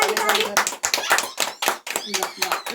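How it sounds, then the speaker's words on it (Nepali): A family claps hands together at a home Mother's Day and birthday celebration, a close burst of quick, uneven applause lasting a few seconds, with voices mixed in. "ताली बजाऊ ताली"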